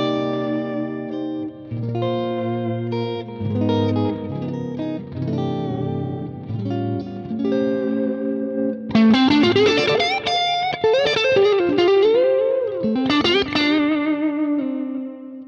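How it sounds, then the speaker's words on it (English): An electric guitar plays through two chained Electro-Harmonix Deluxe Memory Man delay pedals in the effects loop of a Mesa Boogie Lone Star rig, with clean chords giving way to a louder sustained lead line trailed by chorused repeating echoes. "in the effects loop, we actually have two Deluxe Memory Man echoes chained together"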